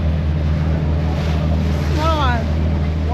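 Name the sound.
small boat engine on water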